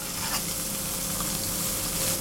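Polenta-coated toast bread fries in a pan of hot oil, giving a steady close sizzle and crackle throughout, alone with no talk.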